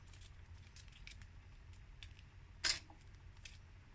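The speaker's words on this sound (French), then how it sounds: "je vais couper tout ce que j'ai de trop" A single short, crisp snip of scissors trimming excess material off a handmade shaker card, a brief sharp cut in a quiet room with faint background rustle.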